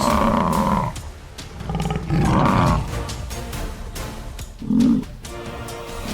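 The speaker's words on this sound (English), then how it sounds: "Roars and snorting sounds echo everywhere." Lion roaring amid buffalo snorting in the African wild, several deep, loud bursts separated by short pauses, with no voices.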